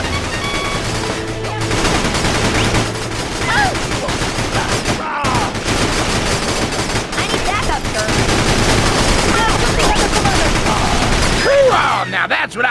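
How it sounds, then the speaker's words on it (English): Video game firefight in Battalion Wars, with dense bursts of machine-gun and rifle fire crackling continuously under loud battle noise and explosions, a brief lull near the middle before the shooting resumes. "Oh, now that's what I call a firefight."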